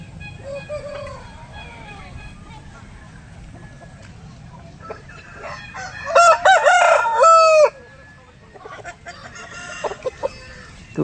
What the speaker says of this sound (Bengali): এই মুরগি কোয়ালিটিটা দেখো